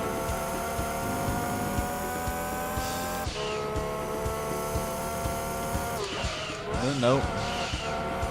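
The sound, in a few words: R32 Skyline race car driving in Gran Turismo 2 video game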